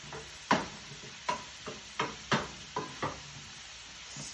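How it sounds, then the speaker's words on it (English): A utensil stirs skillet lasagna in a pan, a series of about eight irregular clacks and scrapes against the pan with a faint sizzle underneath. "Don't forget to stir"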